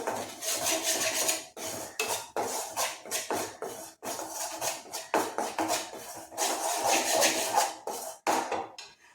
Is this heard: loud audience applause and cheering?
no